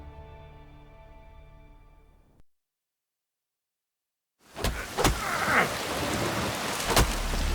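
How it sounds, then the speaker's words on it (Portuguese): Heavy rain pours down with sharp thunder cracks in The Witcher 3: Wild Hunt, beginning after a few seconds of soft music and a brief silence, loud and dense, with two distinct thunder strikes. "Chove! O Ragnarok chove sobre nós."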